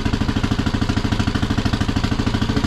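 A golf cart engine runs with the choke on, a loud, close, rapid and even mechanical chugging that holds steady throughout with no talk.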